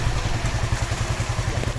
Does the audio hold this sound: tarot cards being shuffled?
no